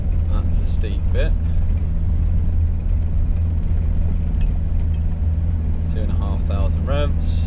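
A van's engine labours loudly at around 2,500 revs while climbing a steep beach slope in northern Turkey, a heavy continuous rumble with occasional voices and exclamations over it.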